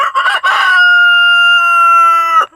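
A rooster crows loudly and close inside a mobile hoop chicken coop, one long sustained cock-a-doodle-doo held for about two seconds after a few short clucks.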